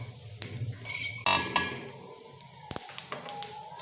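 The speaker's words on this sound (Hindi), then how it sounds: "हल्का सा चम्मच चलाते रहेंगे" A spoon scrapes and taps against a pan of flax seeds roasting over low heat, giving a few sharp metallic clinks and brief scrapes, close by and fairly loud, with no talking.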